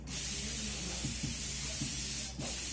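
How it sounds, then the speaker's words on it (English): An air compressor hose blows hair off surfaces while a barbershop is prepped for reopening, making a loud continuous spray hiss that cuts out briefly near the end, with faint rattling underneath. "Big Al is blowing everything with a compressor, with a hose that he has connected to the compressor in the back."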